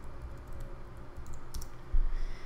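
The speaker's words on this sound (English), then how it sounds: "let's go ahead and type it here" A computer keyboard being typed on to enter a kinit command on a Linux cluster, soft scattered key clicks at close range, with one louder thump near the end.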